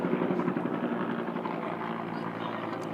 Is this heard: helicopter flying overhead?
yes